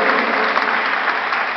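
Audience applause fills a church-like gathering of a Pueblo de Dios music ministry in Buga, steady dense clapping throughout at close range, with no pauses or voices standing out.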